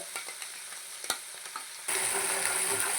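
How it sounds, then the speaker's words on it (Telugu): Spice masala for stuffed okra curry frying in a pan, a few scrapes and taps of a spoon at first, then a sudden louder, steady sizzle as the mixture hits the heat. "మసాలాని కొంచెం బాగా చక్కగా వేయించుకోవాలన్నమాట"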